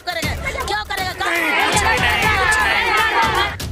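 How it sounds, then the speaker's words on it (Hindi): A dense crowd of thousands of protesters, many of them women, fills Jantar Mantar in Delhi with a loud, continuous roar of overlapping shouts and chatter that swells and holds steady. "हजारों की भीड़ है यहाँ पे।"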